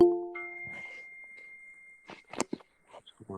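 A single bright bell ding rings out at the start and fades, followed by some clattering and shuffling noises.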